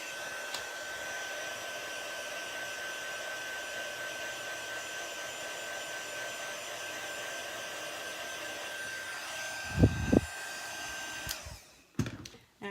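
A hair dryer runs steadily on watercolour paint, a continuous close whirring roar that holds for about eleven seconds, with a few soft knocks near the end before it cuts off abruptly.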